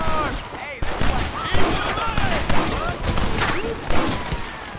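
Rapid volleys of gunfire from a Red Dead Redemption shootout crack in overlapping bursts, loud and continuous, with voices shouting in between.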